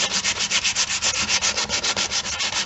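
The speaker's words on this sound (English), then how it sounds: "you can also use an orbital sander." An orbital sander buzzes steadily over a wood surface being distressed with texture finish, a close, loud, evenly pulsing rasp lasting a few seconds with no voices.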